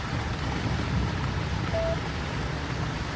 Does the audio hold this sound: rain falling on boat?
yes